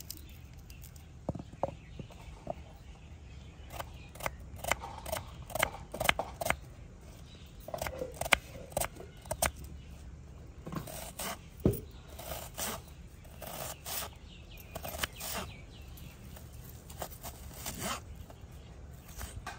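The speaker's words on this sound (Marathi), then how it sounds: "गवारीच्या भाजीसाठी आपण आता बारीक कांदा कापून घेऊ" Onion is chopped finely on a board for a spicy cluster bean curry. The knife strikes come as irregular, fairly faint chops and scrapes, some in quick runs, with short pauses between them and no talk.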